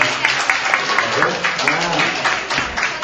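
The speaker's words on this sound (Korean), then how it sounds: "우리 다 같이 박수." Children and adults at a church service applauding together, a steady patter of many hands with individual claps standing out, fairly close, over some background voices.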